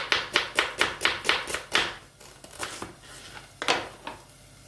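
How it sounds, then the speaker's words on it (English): A knife finely slices half an onion on a cutting board. Rapid, evenly spaced chops come first, then a few slower, softer cuts, all close and with no talking. "just slice up half an onion. You want to slice it finely"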